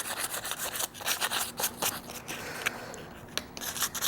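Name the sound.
hand sanding a sheet metal burger flipper handle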